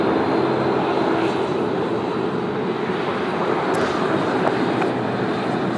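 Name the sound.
Dash 8 propeller airliner passing by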